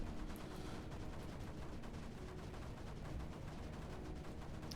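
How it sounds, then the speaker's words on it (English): Mortars firing together in the Creeper World 4 video game, heard as a dense, continuous rumble of rapid overlapping blasts at a steady, fairly quiet level, with no voices. "the mortars all just in unison mortar their own buddy"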